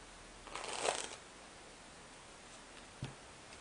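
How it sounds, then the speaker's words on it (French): A deck of playing cards is split and riffle-shuffled by hand, one brisk close ruffling burst followed by a short snap as the cards settle, in a quiet room. "je vais prendre ensuite mon paquet, le scindé en deux, et mélanger les cartes. Le remélanger une deuxième fois."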